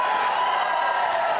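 A judo arena crowd at the Abu Dhabi Grand Slam 2019 keeps up a steady, fairly loud roar of cheering and murmur during a contest.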